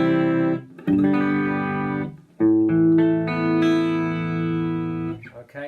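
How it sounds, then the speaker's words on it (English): Electric guitar played on the clean channel of a small practice amp: a few ringing chords and sustained notes with short pauses between them, close, clear and fairly loud, with no voice over it. "So if I play my clean sound,"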